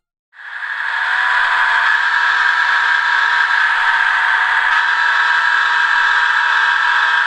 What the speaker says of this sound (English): SW1500 diesel switchers